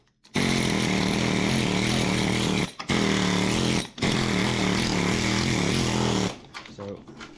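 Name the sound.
pneumatic air hammer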